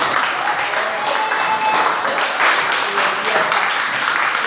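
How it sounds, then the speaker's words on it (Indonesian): Steady, loud applause from a large crowd at a school, dense clapping that holds evenly throughout without a break. "Tepuk tangan lagi"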